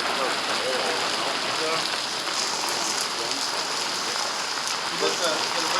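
Steady rain pours down during a hailstorm in Colorado Springs, a dense, even hiss of drops striking surfaces close by, with faint voices now and then beneath it.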